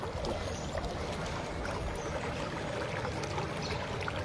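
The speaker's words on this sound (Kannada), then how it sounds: "ಇಷ್ಟು ನೀರು ಸುಮಾರು 2 ದಿನದಿಂದ ಹರಿತಾ ಇದೆ" Water streaming continuously from a blocked street drain that has been flowing for days, a steady close gurgling rush with no talk over it.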